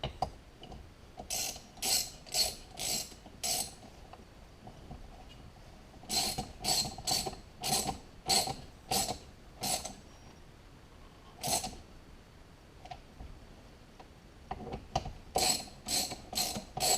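Socket ratchet tightening 5/16-inch or 8mm bolts on a Holley 850 cfm carburetor, heard as several bursts of quick clicking pawl strokes separated by pauses, close and clear with no talking.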